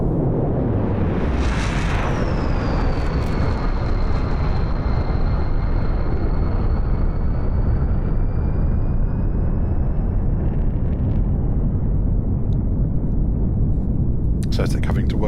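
A Soviet jet flies a tight minimum-radius turn during an airshow display, its engine a loud, broad roar that holds for the whole turn, with a high whine that slowly falls in pitch and a commentator talking over it.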